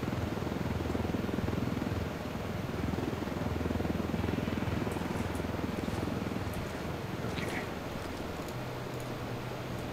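A helicopter in a video game thrums steadily and loudly throughout, with a dense continuous rotor and engine roar and a few faint higher chirps over it.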